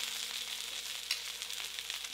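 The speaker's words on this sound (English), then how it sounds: "our duck legs have been searing for about 18 minutes, so we're going to flip them" Duck legs sear skin side down in a pan, producing a faint, steady frying hiss throughout with a couple of tiny pops.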